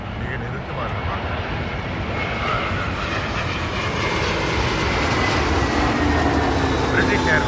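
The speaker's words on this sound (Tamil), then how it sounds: "இந்த ஃப்ளைட் வருது பாருங்கள்" A British Airways jet coming in to land at London Heathrow Airport produces a broad, steady engine roar that swells slowly, with no speech heard.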